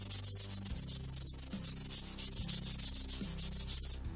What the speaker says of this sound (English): So I'll hit it with some 150 grit.